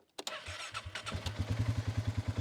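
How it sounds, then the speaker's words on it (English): A Polaris Sportsman 570 ATV engine cranks briefly and fires up, then settles into a quick, regular putter at close range. "Before that thing would have cranked over, and it would definitely like crank, and then it would fire up."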